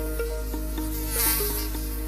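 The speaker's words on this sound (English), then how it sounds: "Oh, that one's a mosquito." Mosquito buzzing close by outdoors along a Spanish walking trail, a steady whining drone with a shifting pitch that holds throughout, loud and near with no talking.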